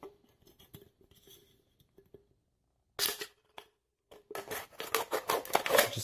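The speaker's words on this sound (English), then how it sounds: "we need to take empty soda and we need to cut it" Scissors snipping through the thin aluminium of an empty soda can, with a few light metallic clicks followed by a close, loud burst of rasping cuts and a series of choppy snips.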